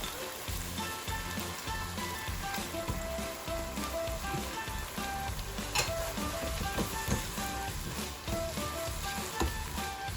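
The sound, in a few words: stirring peas, corn and soya granules frying in a pan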